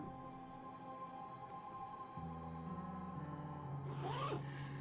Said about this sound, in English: I tug the tag down and drag it along the length of the bag, and the zip makes a familiar zzz sound.